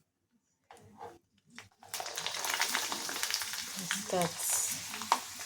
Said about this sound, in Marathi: पापड तळायला टाकायचं आहे